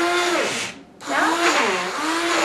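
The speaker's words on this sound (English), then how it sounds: "And Sydney, you can go ahead and use that immersion blender again." An immersion blender mixes sugar and butter for banana bread, a loud high whir that cuts out briefly, then starts again and shifts pitch as it works through the mixture.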